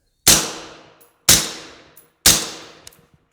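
Three suppressed .223 rifle shots fired with standard ammunition, each a sharp, loud crack with a ringing decay, evenly spaced about a second apart, with faint metallic clinks after.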